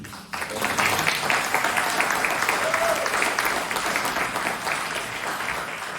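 An audience applauds a newspaper speaker at a hosted event, steady, full clapping from many hands that starts abruptly and holds loud for several seconds before tapering slightly.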